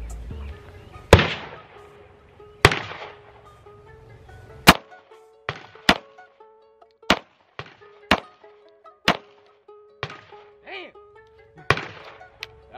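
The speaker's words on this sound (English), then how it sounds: "I'm going to shoot five more." Pistol shots fired at an outdoor shooting range, about a dozen sharp, loud single cracks spaced roughly a second apart with quiet gaps between them, and a faint voice briefly heard near the end.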